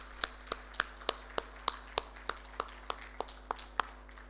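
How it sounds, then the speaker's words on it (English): A single pair of hands claps in a steady, even rhythm, about fourteen sharp claps over four seconds, at an HR conference, fairly close over a low constant hum, with no voices. "Can we clap for all of you?"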